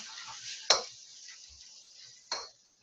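Onions salted and broken up with a utensil in a very hot pan for a shrimp stir fry: a steady, fairly quiet sizzle runs throughout, punctuated by two sharp metallic scrapes or clinks about a second and a half apart, with no talking.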